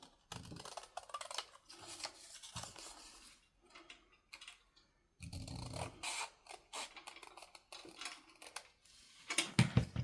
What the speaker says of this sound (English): So let's just trim it off just slightly.